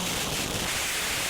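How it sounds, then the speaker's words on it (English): A dense, harsh wall of distorted noise from a 1996 harsh noise album roars continuously at full loudness, with no discernible melody or rhythm. "There's a genre of music literally called harsh noise"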